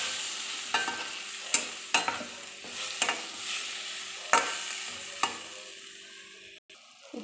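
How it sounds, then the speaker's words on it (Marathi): Tomato chutney stirred and frying in a pan, with a steady soft sizzle under repeated sharp scrapes of the spoon against the pan, close and alone. "आणि आता मिक्स करून घेते."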